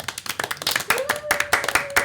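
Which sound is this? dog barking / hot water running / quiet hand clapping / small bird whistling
quiet hand clapping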